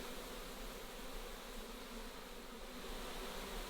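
A honey bee swarm hums steadily around a box, a dense continuous buzz of many insects filling the whole stretch at an even, moderate level with no voices.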